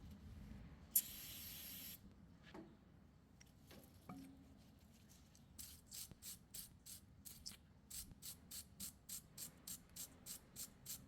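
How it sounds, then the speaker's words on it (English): Aerosol cleaner sprayed onto the rear brake parts of a Mercedes C300: one sharp hiss near, then after a pause a rapid series of short, evenly paced spray bursts, all fairly faint and without talk. "Spray some."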